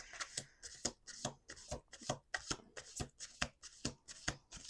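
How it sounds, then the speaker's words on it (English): Tarot cards being riffled in a steady run of about ten quick, crisp bursts, close and moderately loud with no talking over them. "Last shuffle."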